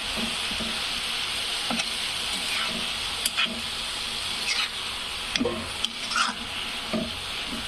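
Fenugreek leaves cooking with garlic in a pan, giving a steady soft sizzle with occasional light stirring scrapes, no voices over it.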